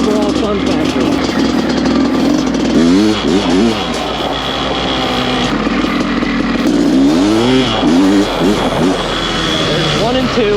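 A 2001 Honda CR500 two-stroke and a 2024 Honda CRF450R dirt bike rev up close and loud, with repeated rising and falling throttle blips over a constant engine drone and a voice talking over it.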